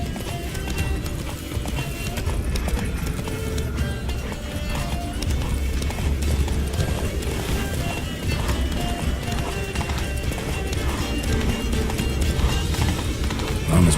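Roach, Geralt's horse in The Witcher 3, gallops hard with quick, rhythmic hoofbeats that keep going the whole time. Game ambience sits beneath them, and voices are heard at moments.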